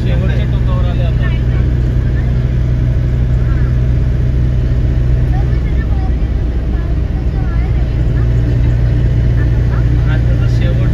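Road traffic near Dhanushkodi at India's southern tip, with engines passing close by and a constant loud rumble, scattered horn-like tones and voices mixed underneath throughout.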